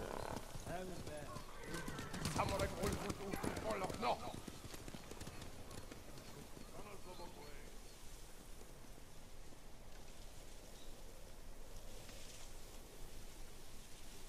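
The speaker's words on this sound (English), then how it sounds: "Bastards scared off the horses." Horse hooves clip-clop in a quick burst alongside a whinny in the video game Ghost of Tsushima, then fade into a steady rain-like hiss.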